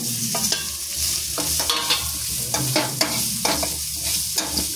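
Instant puliyogare powder is stirred and fried in hot oil in a pan, giving a continuous close sizzle broken by repeated scraping strokes of the spoon at an uneven rhythm.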